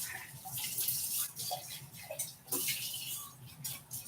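Something being rinsed under running water produces a soft, continuous splashing rush that rises and dips unevenly, quiet and fairly close, without speech.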